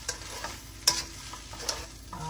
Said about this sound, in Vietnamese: giờ Dung bỏ mì vào này các bạn. Bỏ mì vào. Mình trộn đều lên.